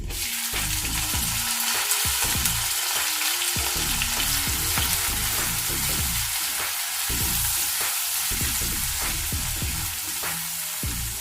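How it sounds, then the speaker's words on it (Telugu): Chopped onions sizzle with garlic in a hot pan for lasooni methi, a loud continuous frying hiss with intermittent scraping and stirring of a utensil against the pan. "ఇప్పుడు అరకప్పు ఉల్లిపాయ ముక్కలు చిన్నగా కట్ చేసుకొని వేసుకోవాలి"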